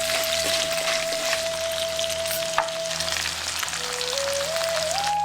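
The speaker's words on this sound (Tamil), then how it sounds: "எண்ணெயில நல்லா வறுத்துட்டு 200 கிராம் நறுக்குன பெரிய வெங்காயத்தை" Chopped large onions fry in hot oil with spices and coriander, giving a loud, continuous sizzle with a steady crackle. A short tonal whine runs along under it, and no one speaks.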